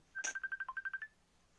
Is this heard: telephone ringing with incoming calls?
yes